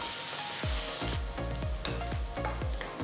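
Onions and slit green chillies fry in hot oil with a steady sizzle, broken by several regular scraping stirs in quick succession, close and clear with no talk.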